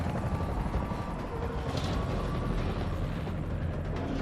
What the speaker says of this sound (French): L'hélicoptère va vous conduire en lieu sûr.